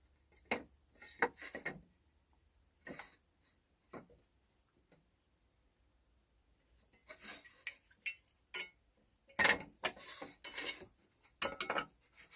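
Marking knife scoring knife walls along a bevel gauge for a dovetail halving joint in wood, a series of short scratchy strokes, sparse at first then quicker clusters, close and quiet.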